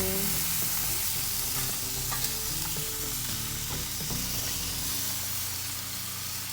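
An Alberta beef T-bone steak sizzles on a BBQ grill: a dense, continuous crackling fry heard up close and fairly loud, with scattered pops and no voices.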